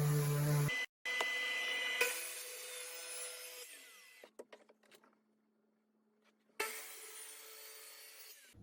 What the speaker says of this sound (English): I love the sound the activator makes. Not so much the sander though,